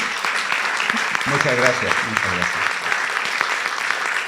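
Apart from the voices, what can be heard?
audience applause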